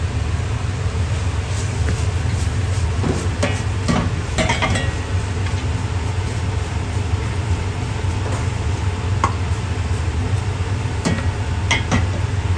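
Chicken chowmein noodles with vegetables, sugar, salt, ketchup and chili sauce are stirred and tossed in a hot pan at a street-style stove, giving a steady scraping stir over a constant low burner rumble and faint sizzle, with no talk.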